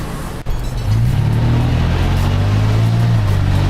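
A Toyota FJ Cruiser fitted with a metal bull bar accelerates on a test drive, its engine rising from a brief low idle into a loud, steady climbing drone heard from inside the cabin.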